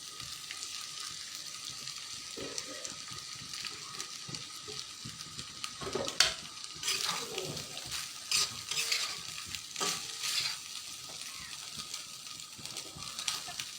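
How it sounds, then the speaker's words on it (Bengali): Leftover cooked rice is stirred and fried in a pan, a continuous low sizzle broken by scraping spatula strokes that grow busier partway through. "এখন এটাকে আমি নেড়ে ছেড়ে ভাতগুলো এর মধ্যে দিয়ে দেবো,"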